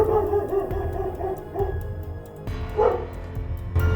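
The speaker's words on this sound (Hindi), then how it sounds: "कुत्तों की भौंकने की आवाज़ सुन के" Several dogs bark and yip repeatedly in a rhythmic, excited burst, fairly loud and close, with a further yelp and more barking after a short break.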